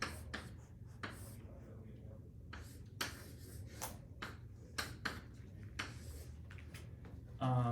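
Chalk scratches on a board in a string of short strokes and taps as a schematic diagram is drawn in a quiet lecture room, faint and irregular.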